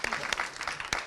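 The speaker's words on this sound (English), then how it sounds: "a big round of applause." A short burst of enthusiastic clapping from an audience, steady and full, with a few sharper claps standing out.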